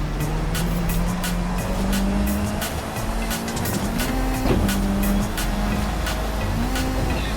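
A racing car's engine drones steadily in Forza Horizon 5, its pitch climbing and dropping at each gear shift, with tyre noise and short clicking transients over a dense, loud, continuous roar.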